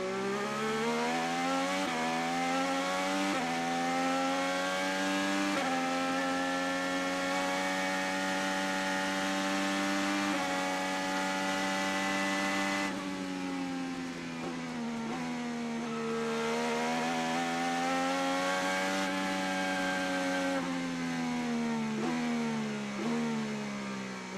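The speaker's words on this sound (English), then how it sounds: "Want to know what it's like to take a lap of Barber Motorsports Park with conditions like this?" A race car laps Barber Motorsports Park, its loud, close engine wailing continuously as the pitch climbs and falls through gear changes and corners, with no voices.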